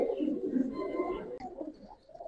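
Giribaz pigeons in a loft give soft, rolling coos that overlap for a couple of seconds, fairly close and clear, with faint chirps behind and no talking.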